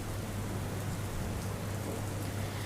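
Torrential monsoon rain in Talala, Gir Somnath, Gujarat, flooding villages and fields, heard as a steady, fairly faint wash of dense rainfall throughout, with no voices.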